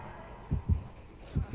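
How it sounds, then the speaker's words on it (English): Deep thudding killer heartbeat from the video game Dead by Daylight, two pairs of low double beats pulsing close and loud. "Hurry, I hear heartbeats."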